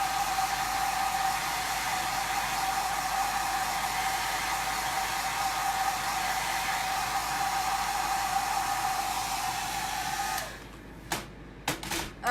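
A hair dryer blows steadily on a freshly inked shirt, a close, loud, even whooshing hum that cuts off near the end, followed by a few short clicks and handling noises.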